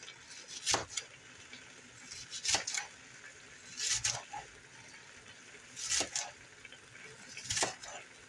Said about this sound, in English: I am going to start by slicing up some onion really thin